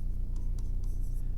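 Pen or chalk scratching steadily as a maths equation is written out by hand, a soft continuous scraping with a few sharper strokes, close and fairly faint over a low steady hum.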